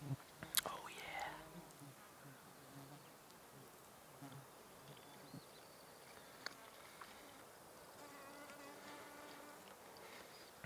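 A wasp or similar insect buzzes faintly outdoors in the woods, soft intermittent hums over quiet background rustle, with a few brief louder clicks and bumps.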